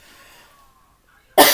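A single sharp, loud cough bursts out abruptly after a near-silent stretch.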